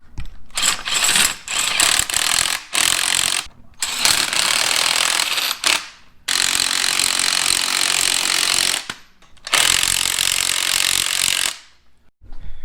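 Spring compressors are ratcheted down on BMW 340i coil springs, with loud bursts of rapid mechanical clattering, likely from an impact tool, broken by short pauses and no talking.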